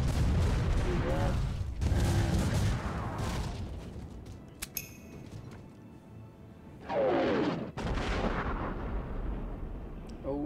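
Ship cannons in the naval battle of the video game Port Royale 4 fire in heavy booming blasts over a dense, continuous battle and music bed, with a second volley a few seconds later.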